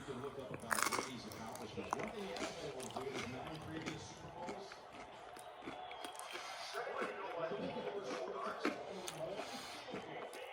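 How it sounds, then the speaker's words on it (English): A person bites into a crunchy pepperoni pizza crust at a cafe and chews it close to the microphone, a crisp crackle followed by soft mastication, with someone talking around the bites. "And crunch of that crust."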